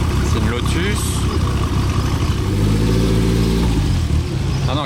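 A Caterham sports car engine drives past on a busy street, with a loud, steady engine drone and revving that swells and falls, while people talk over it.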